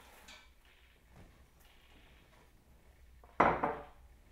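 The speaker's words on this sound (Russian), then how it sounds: "Я все ингредиенты складываю в мультиварку" Beef stew ingredients go into a multicooker pot: faint soft handling and light clinks over a quiet room, then one sharp loud clatter near the end as something drops into the metal pot.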